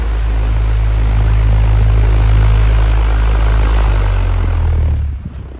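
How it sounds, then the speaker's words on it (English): An unbranded 30-inch high-velocity fan with a ball-bearing motor runs at full power as a loud, steady, close roar of rushing air with a low hum, then cuts out and starts winding down at the end. "run it up at full power, to ensure that the balance is good"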